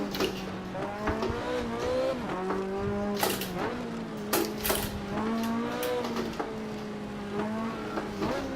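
Rally car in Assetto Corsa sliding under handbrake, its engine note droning and swinging in pitch with repeated sharp tire-squeal bursts as the car skids, loud and continuous throughout.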